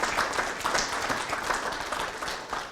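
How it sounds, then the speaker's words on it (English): An audience applauds at a talk on housing-crisis solutions with Minister Ravi Kahlon, a dense, steady wash of many hands clapping from start to finish. "we should give them a round of applause"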